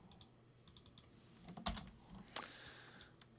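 Computer keyboard keys clicking while working in Maya, with a few scattered light taps and a couple of sharper presses of a shortcut, fairly quiet and close with no talking.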